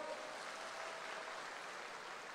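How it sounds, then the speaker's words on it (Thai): An audience applauds Pheu Thai party candidates with steady, dense clapping that holds at an even level throughout, with no voices over it. "ปรบมือให้กับว่าที่ผู้สมัครพรรคเพื่อไทยครับ"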